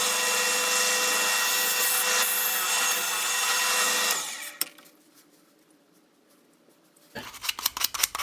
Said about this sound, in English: Go and drill this bit out now, and I'm going to use my drill press